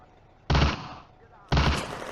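A BT-7 tank's ammunition cooking off in a World War II eastern front strategy game: two loud, close bursts of crackling, popping detonations about a second apart, each dying into a brief rumble.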